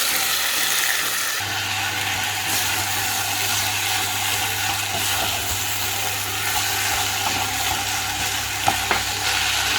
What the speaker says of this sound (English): the onions have browned up, they're softened up. I'm going to add in the basmati rice.